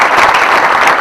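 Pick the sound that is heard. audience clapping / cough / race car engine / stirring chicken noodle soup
audience clapping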